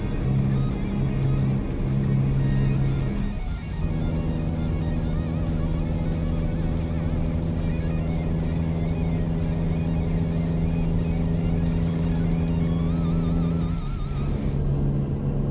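A steady, droning diesel engine of an International Transtar truck cruising in American Truck Simulator, with a strong low hum and a brief dip in revs like a gear change near the start and again near the end.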